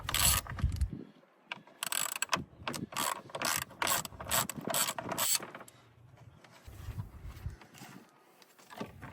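A ratchet clicks as it undoes a couple of 10mm bolts on top of a Mitsubishi Pajero Gen 4 fan shroud, with bursts of rapid ratcheting separated by short pauses and faint handling noises close by.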